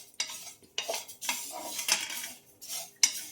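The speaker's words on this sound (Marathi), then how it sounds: "छान भाजून घेऊ आता तीळ आपण." Sesame seeds stirred as they roast in a metal pan for sesame-khoa barfi, a spoon scraping and clinking against the pan in several distinct bursts with short pauses, close and fairly quiet, no voices.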